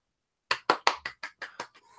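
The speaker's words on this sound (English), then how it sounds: "golf clap." A short, soft golf clap: about eight light, evenly spaced hand claps at close range, quick and sparse, with no talking.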